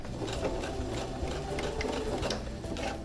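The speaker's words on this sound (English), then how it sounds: "I'm just going to hand walk the machine" A domestic sewing machine is walked slowly by hand, stitching the underarm seam where the sleeve joins the body of a winter coat, giving a steady close mechanical whirring and ticking that runs continuously with no talk.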